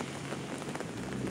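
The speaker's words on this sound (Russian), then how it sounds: "Вот такой вот дождь" Autumn rain falls in Yakutsk, a steady soft hiss of drops pattering on surfaces close by, alone without talk.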